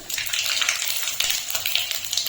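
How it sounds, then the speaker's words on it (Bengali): Panch phoron and bay leaf sizzle steadily in hot mustard oil, a close, continuous crackling spatter with small pops throughout, no voices. "এখন ফোড়নে আমি দিয়ে দিচ্ছি পাঁচফোড়ন আর তেজপাতা।"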